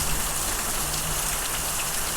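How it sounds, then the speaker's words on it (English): Steady rain with small hail falls outdoors during a passing thunderstorm in May, a dense continuous hiss of drops hitting the ground and garden with no voices. "Little pieces of hail."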